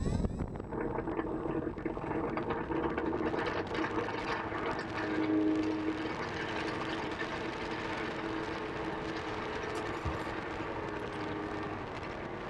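An RC airplane, the Critical Mass from RocHobby/MotionRC carrying a GoPro on its maiden flight, gives a steady whining motor drone under constant wind rush, loud and unbroken throughout.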